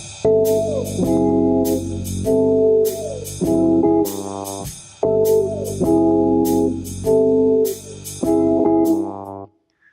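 Guitar melody played as phrased notes, sliding from the fourth finger down to the second, repeating in two near-identical passages with brief gaps; clear, close and alone, with no talk.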